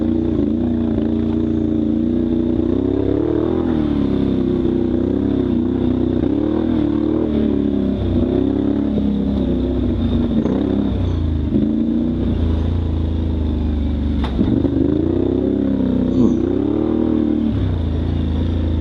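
A four-wheeler ATV engine runs steadily on a rocky off-road trail at Brown Mountain OHV, a continuous loud mid-pitched drone that rises and falls with the throttle, with a brief knock partway through.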